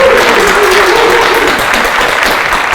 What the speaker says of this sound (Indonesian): Beri tepuk tangan buat mahasiswa Rizky.